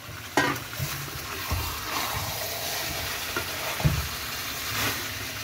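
Chicken curry with raw potato pieces fries in a pan, giving a soft, continuous sizzle broken by occasional scraping and knocking strokes as it is stirred.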